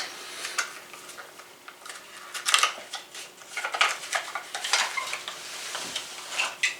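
A plastic garlic crusher is opened and twisted on a table at home, giving small clicking, rattling plastic handling noises in irregular bursts, close and fairly quiet.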